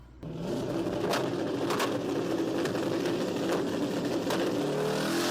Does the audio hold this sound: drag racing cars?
yes